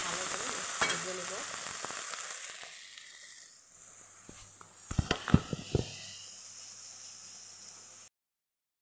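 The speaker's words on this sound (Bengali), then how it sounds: "হলুদ লবণ সব দিয়ে দিয়েছি এখন ভালো করে ভেজে নেব" Vegetables frying with turmeric and salt give a steady hissing sizzle that fades midway, followed by a few sharp utensil clinks and stirring knocks before the sound cuts out.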